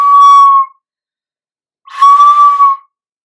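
A Nuvo Toot flute blown too hard gives two short, bright, shrill tones with extra breathy hiss, the second rougher and wavering, heard close up with a brief silence between.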